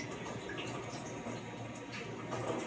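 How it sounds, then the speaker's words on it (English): Zucchini and kale rinsed under running water at a kitchen tap, a steady, soft splashing stream that holds even throughout with faint fluctuations and no voices. "so I'm gonna give it another wash."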